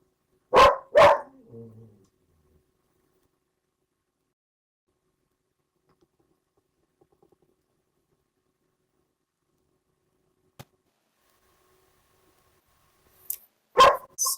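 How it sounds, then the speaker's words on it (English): A dog barks in the background of an online panel session, two sharp barks at the start, then near silence, then another short burst of barking at the end. "And please excuse the dog in the background."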